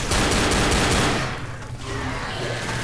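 Rapid gunfire against zombies in the video game Left 4 Dead, a dense loud burst of shots for about a second, then quieter game ambience.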